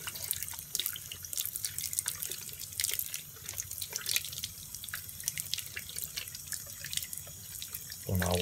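Tap water runs steadily into a sink while freshly dug new red potatoes are washed, with dripping and splashing throughout and a louder gush near the end; no one speaks.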